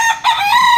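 A young gamefowl stag, about four months old, crows once, loud and close, a short rough call with a brief break partway through.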